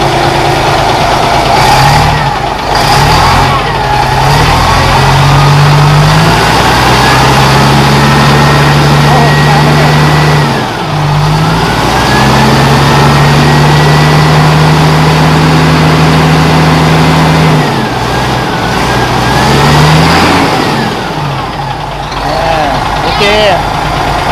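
Hino 380 ten-wheel dump truck, a gas-powered 2014 or 2018 model, with its engine idling and revving in steady rumbling surges through the clip, close and loud, while people talk over it.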